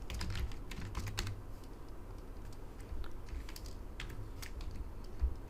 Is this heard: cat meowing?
no